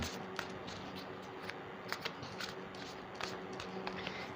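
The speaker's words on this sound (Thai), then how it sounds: "เดี๋ยวพี่ขอสับไพ่ก่อนนะคะ" Tarot cards are shuffled close by in quiet, repeated soft riffles and slaps, small crisp flicks scattered through the whole span, with no talking.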